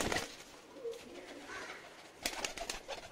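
Punjabi and Madrasi pigeons for sale coo softly in a flock, low murmuring calls repeating against a faint background with a brighter burst of activity near the end.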